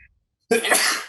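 A single sharp, close sneeze bursts out after a moment of silence on a sports-talk podcast, loud and breathy, fading within about half a second.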